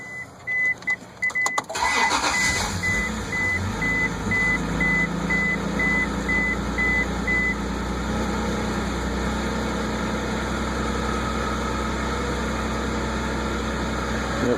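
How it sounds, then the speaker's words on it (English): Engine of a Honda Passport cranks and catches after serpentine belt and tensioner pulley replacement, then settles into a loud steady idle, with a high electronic beep tone running through the first half. "Okay, so I'm going to start the engine now."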